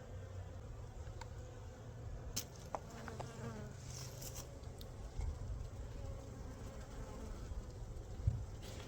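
Honey bees at an open beehive during spring colony inspection, a dense steady buzzing hum filling the air close by, with occasional sharper clicks and handling knocks and no speech.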